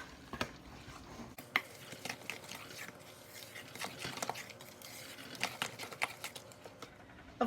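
A spoon scrapes and taps through wet carrot cake batter with grated carrots, giving irregular soft clacks and squelchy stirring strokes against a bowl, fairly quiet.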